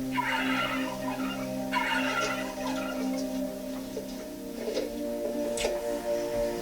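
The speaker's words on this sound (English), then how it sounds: "Here's a turkey." A turkey gobbles in repeated rippling bursts over a steady harmonic hum, fairly loud and close, with no voices.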